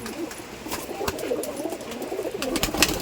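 Giribaz pigeons in Rajshahi, kept by a fancier, coo softly at close range, a few rolling, repeated coos over a faint background of rustles and clicks.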